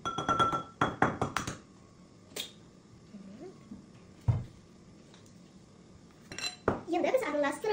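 Cookie batter being stirred in a bowl for gluten-free, lactose-free, sugar-free cookies gives sharp clinks and scrapes of utensil against the bowl in short bursts, with quiet gaps between and a voice briefly audible.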